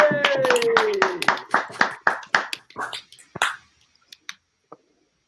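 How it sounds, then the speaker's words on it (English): Online improv participants give a round of applause: a quick burst of scattered claps with a brief cheer at the start, then thinning out into a few isolated claps that fade to silence. "So give a round of applause."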